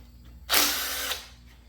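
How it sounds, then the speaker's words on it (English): A short burst of a power driver or ratchet spinning on a bolt of a Ford 460 engine, loud and close for about half a second, then stopping. "I need to get a ratchet on that one."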